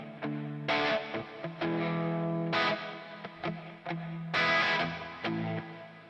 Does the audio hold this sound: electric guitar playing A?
yes